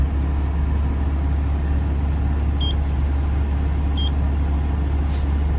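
A Komatsu PC130F-7 excavator's diesel engine holds a loud, steady high idle with a dense, constant drone, broken only by two brief faint beeps.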